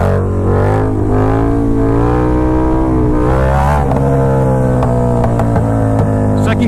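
KTM Super Duke motorcycle accelerating hard in second gear, a loud continuous engine roar with steadily rising pitch and a brief dip near the end, heard close up.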